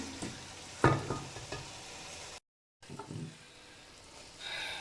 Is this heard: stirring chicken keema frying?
yes